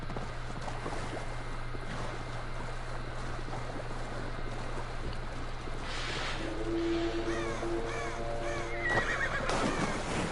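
A horse whinnies in the video game Assassin's Creed Valhalla over a steady ambient bed with faint movement sounds, the neigh rising clearly in the second half.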